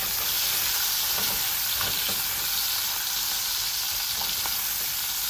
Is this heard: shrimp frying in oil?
yes